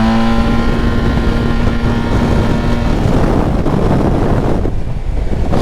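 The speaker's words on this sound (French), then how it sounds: "C'est très beau mais il y a beaucoup de vent." Steady loud wind buffeting the microphone while riding a 2024 Yamaha T-Max 560 scooter, a continuous roar with engine drone underneath and no talking.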